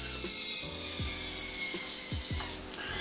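A spinning yoyo whirs steadily with a bright high hum while its string drags against it, adding scattered clicks and rubs before the spin weakens near the end.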